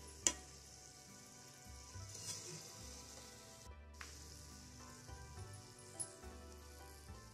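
Pantua, Bengali milk-and-egg sweets, frying in hot oil, giving a soft, steady sizzle with a few sharp pops and light stirring clicks, fairly quiet and with no voices.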